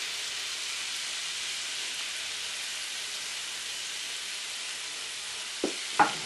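Seasoned panko breadcrumbs with oregano, parsley and basil sizzle in a pan as a steady, close, hissing fry, with a couple of sharper clicks near the end.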